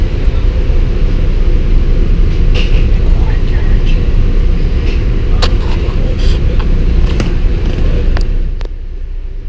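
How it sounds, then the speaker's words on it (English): A constant loud rumble and rattle inside a moving train in New York, with scattered clicks and knocks over the drone, easing off slightly at the very end. "I'm on a train."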